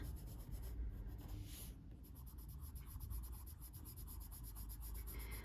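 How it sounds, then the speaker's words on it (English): A blender pencil burnishes coloured pencil on paper in a Johanna Basford Small Victories colouring book, giving a close, soft, steady scratchy rubbing with continuous strokes and no voices. "I might just go in with a blender pencil to just burnish that."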